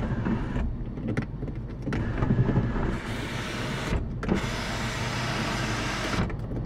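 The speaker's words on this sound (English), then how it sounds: "And all your windows also work perfectly." Power window motors on a 2006 Cadillac STS4 AWD running in several separate strokes, each a near, whirring hum that starts and stops abruptly, with short pauses between runs.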